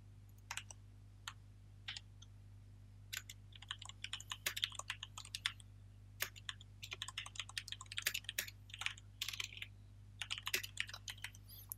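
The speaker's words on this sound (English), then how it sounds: "because I will have to type it 5 or 6 times" Keys on a computer keyboard clatter in irregular bursts, quick runs of taps broken by short pauses, close and fairly soft over a steady low hum, with no one talking.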